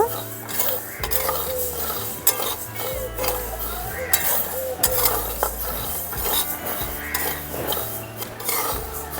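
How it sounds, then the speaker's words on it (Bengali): Sabudana fries lightly in a pan with a soft sizzle, while a utensil repeatedly scrapes, stirs and clinks against the metal. People talk over it throughout. "হালকা একটু সাবুদানাগুলো ভেজে নেব।"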